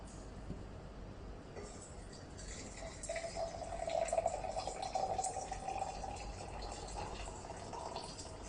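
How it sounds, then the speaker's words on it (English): Warm water pours into the pot of a coffee maker, a soft, faint trickle that swells in the middle and then trails off against a quiet room. "Then pour some warm water into the pot."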